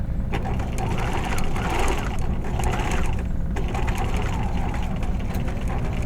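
A sewing machine stitches a seam on a vest facing, running as a close, steady mechanical whir with a fast, even ticking rhythm and no pauses.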